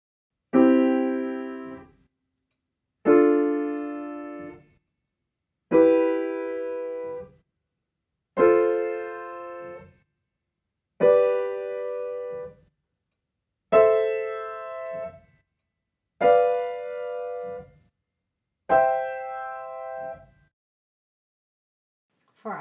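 Eight slow piano triads climb the scale one after another, each a clear struck chord ringing and fading before a short silence, evenly spaced and alone without any voices.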